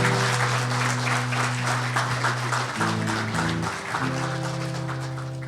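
A church congregation applauds in a thick, continuous wave of clapping while sustained organ or keyboard chords ring underneath, the clapping slowly thinning toward the end.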